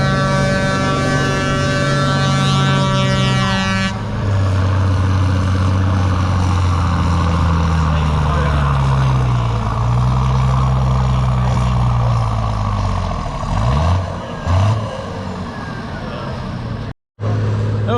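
At a fall tractor pull, a pulling tractor's engine roars loudly and continuously, its pitch rising and falling as it works under load for the whole stretch, with a brief cutout near the end.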